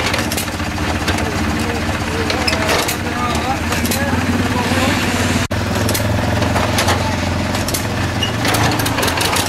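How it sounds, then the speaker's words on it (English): An old single-cylinder John Deere engine at a steam show, cranked and running with a steady loud chugging throb, briefly cutting out midway before resuming. "Trying to get this old John Deere going, I guess. Oh, crank the start."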